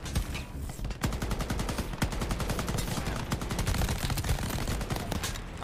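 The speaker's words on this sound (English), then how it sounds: "The fuck is shooting me still?" Rapid automatic gunfire in a video game rattles in long, dense bursts, loud and close, with brief pauses between volleys.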